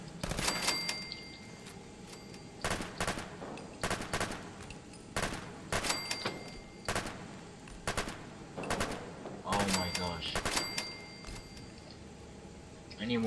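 Gunfire at a shooting range in Fallout 4: repeated sharp shots in short clusters spread across the stretch, fairly quiet overall, with a faint background hum.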